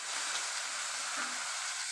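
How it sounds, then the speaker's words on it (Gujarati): Onion fries in a tempering of hot oil with asafoetida and curry leaves, giving a soft, continuous sizzling hiss that stays fairly quiet and even, with no talking. "હિંગ નાખશું હન લીમડો નાખશું ડુંગળી વઘાર દેશું"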